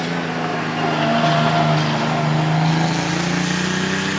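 A vintage Frazer Nash sports car with a 2.2 litre supercharged engine, running at a hill climb, gives a continuous loud, rasping drone that rises slightly in pitch as it pulls away.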